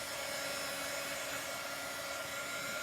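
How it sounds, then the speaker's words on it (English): A regular household hair dryer blows air to dry a chalk transfer, giving a steady, loud, close whirring hiss without a break. "you just use a regular old hair dryer"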